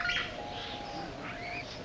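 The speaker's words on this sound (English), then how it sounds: "Roy, you up there with those birds." Faint bird chirps and calls drift in from a distance over a steady low hum, with a few brief twittering bursts.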